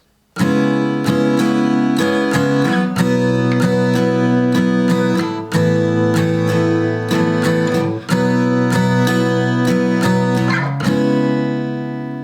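Acoustic guitar strumming the chorus chords of Justin Bieber's "Hold On" in a steady rhythm, bright and close, running as a continuous progression with brief changes between chords; no talking.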